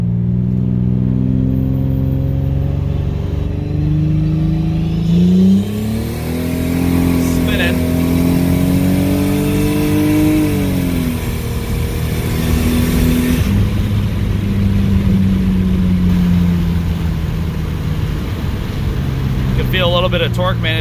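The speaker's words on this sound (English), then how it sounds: "Let's see what this car does right now." A turbocharged Pontiac Grand Prix GTP at 13 psi boost accelerates from a 30 mph roll, its pitch climbing through gear shifts, loud and close throughout.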